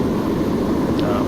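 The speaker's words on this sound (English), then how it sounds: "Let's do full power and go to the engines" Aircraft engines at full power in the Extreme Landings flight game, a steady loud roar that holds even throughout the short moment.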